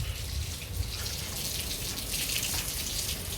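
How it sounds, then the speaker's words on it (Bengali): Water at a rooftop hotel swimming pool in Digha, a steady, loud wash of splashing and flowing water with no pauses or voices. "এই হচ্ছে সুইমিং পুল।"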